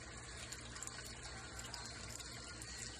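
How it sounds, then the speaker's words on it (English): Broad rushing water discharging into a DIY moving bed filter tank, a steady loud churning splash that continues unbroken throughout. "the large discharge of water stirs any debris up on the bottom so the filters can pick it up"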